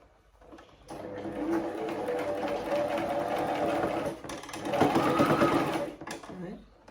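A sewing machine stitches pleated turban fabric in a steady, close mechanical whir that runs for several seconds, pauses briefly, then resumes louder, with faint talk around it.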